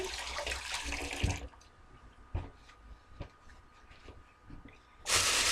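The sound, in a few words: washing hands under running tap water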